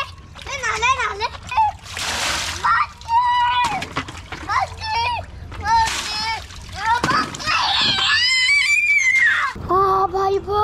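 Cold water pouring from a pipe splashes during an outdoor bath, with repeated close splashes and sloshing under excited children's voices and shouts throughout.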